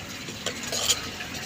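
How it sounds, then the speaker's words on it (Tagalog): Onions sautéing in butter in a pan, a soft sizzle with a couple of brief scrapes and taps of a utensil stirring, close and fairly quiet with no talking. "Gisa na po natin yung sibuyas. Gisa natin sa butter."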